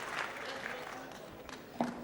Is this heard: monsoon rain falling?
no